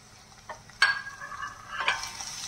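Masala for chicken thokku sautés in a pan, a soft sizzle broken by two sharp scraping stirs of a spoon, close and fairly quiet.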